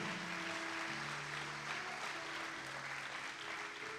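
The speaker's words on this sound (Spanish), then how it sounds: "y le vas a aplaudir, apláudale fuerte" A congregation claps in a church service, steady continuous applause at moderate distance over sustained low organ-like musical tones, with no speech on top.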